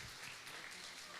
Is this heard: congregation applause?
yes